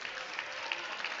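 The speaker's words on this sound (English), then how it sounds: "Crowd cheers." Crowd at a provincial lead and top-rope climbing semifinal cheering and applauding a climber, a dense steady wash of clapping with a few brighter whoops, filling the short moment without talk.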